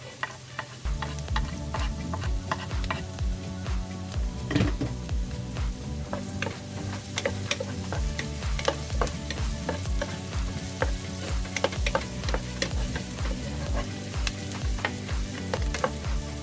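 Garlic sizzling and frying in a pan for a squid adobo, a steady crackling sizzle with frequent sharp pops and stirring clatter, close and continuous with no talk.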